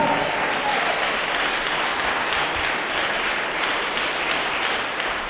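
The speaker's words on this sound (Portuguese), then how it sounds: "Você pode dar uma salva de palmas para Jesus?" Congregation clapping at a church service, a continuous wash of applause at moderate level, steady from start to finish with no clear speech.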